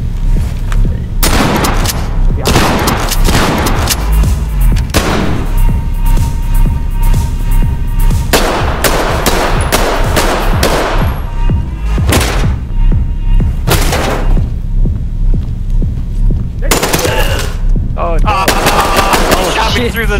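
Heavy gunfire in the tactical shooter game Ready or Not, loud bursts of automatic fire and single shots repeating almost without pause across the whole stretch, close and dense, with a voice murmuring under it.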